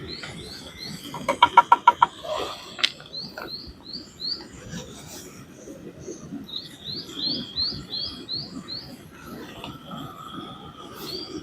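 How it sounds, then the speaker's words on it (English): Small birds chirp and tweet repeatedly in quick, high bursts over a steady rustling outdoor background on Scotland's West Highland Way, with a brief rapid trill early on. "Yeah, the birds."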